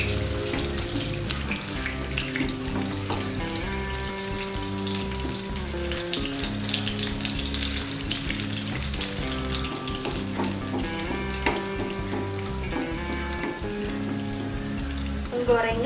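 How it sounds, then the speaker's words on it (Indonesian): Mini egg martabak, folded in a half spring-roll wrapper, fries in hot oil as oil is spooned over it, giving a steady close sizzle throughout with no talking. "Gorengnya siram-siram dengan minyak seperti ini ya."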